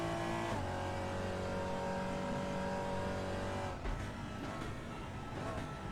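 A GT4 race car engine in the RaceRoom racing game holds a steady high drone, then drops off sharply under braking and settles into lower, rougher revs, continuous and moderately loud.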